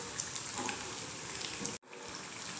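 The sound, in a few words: shallow frying balls in oil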